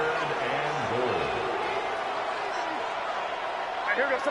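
A football video game stadium crowd roars steadily before a third-and-goal play, a dense, continuous wash of cheering throughout, with a voice talking over it.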